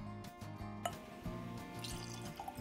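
Dalmore 12 Sherry Cask Select whisky poured from the bottle into a glass, a soft trickling and dripping pour with small splashes, close and quiet, no voices.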